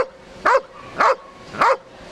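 A dog at a dog show gives three short, evenly spaced barks on command to count, sharp and fairly close, with quiet pauses between them.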